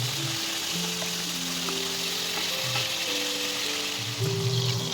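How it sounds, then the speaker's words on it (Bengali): Fish fry in hot oil and melted ghee with a steady, close sizzle that runs without a break, while soft tonal background music plays underneath. "ঘিটি ভালো করে গলে গেলে মাছগুলিকে আমরা ভেজে নেব"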